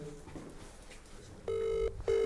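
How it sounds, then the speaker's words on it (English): An outgoing telephone call rings back with two bursts of steady tone, the second cut short, after a stretch of faint background noise; no one speaks. "Are we ringing? Oh, we're ringing."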